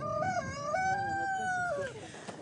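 Gournay hens on a French farm, with a fowl giving a drawn-out, rising and falling call that fades near the end, fairly close and heard alone.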